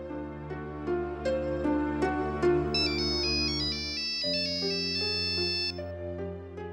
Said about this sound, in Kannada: ಬಂದಸ್ತು ಫೋನು, ಮಾತಾಡಿ.